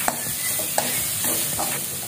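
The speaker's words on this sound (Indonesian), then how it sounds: "Masukkan cabai utuh ya. Kemudian kita tumis lagi." Whole chilies sautéed in a pan for a fish dish, a steady close sizzle broken by a few sharp scrapes and stirs of the spatula, with no voices.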